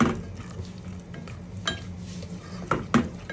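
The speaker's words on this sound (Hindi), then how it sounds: "अब इसके अंदर हम डाल देंगे लहसुन कुटा हुआ फ्रेश 1 टेबलस्पून और इसकी करेंगे अच्छे से भुनाई।" Crushed fresh garlic being fried with tomatoes in a pan, with clattering utensil scrapes and clinks against the metal over a low sizzle, several sharp knocks standing out close by.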